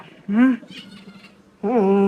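A cat meows twice close by, each call a rising and falling tonal cry separated by over a second of near quiet, with faint background noise between them.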